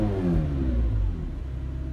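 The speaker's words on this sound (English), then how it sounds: "there you can hear that 4-litre engine" A 2019 McLaren 720S Spider's 4-litre engine revs hard in a loud, close roar that swells and then settles into a throbbing idle, heard alone.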